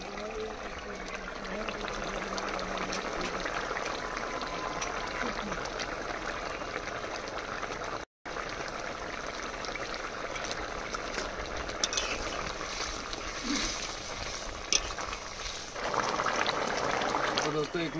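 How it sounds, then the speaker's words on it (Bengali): Fish curry simmering after garam masala paste is stirred in, with a steady low bubbling and liquid burble running throughout at moderate level, briefly dropping out for a moment midway. "এবার গরম মশলা বাটা দিয়ে 1 মিনিট ফুটিয়ে নামিয়ে নেব।"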